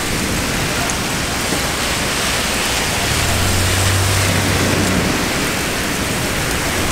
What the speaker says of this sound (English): Oh my gosh, it's pouring